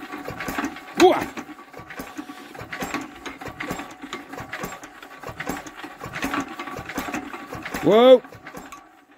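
An old Crossley paraffin engine being hand-cranked from cold, with a rapid mechanical clatter continuing throughout and people talking and exclaiming over it.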